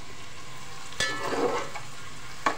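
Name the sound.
onions and star anise frying in oil and ghee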